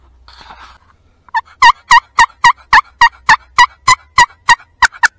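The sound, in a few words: wild turkey tom gobbling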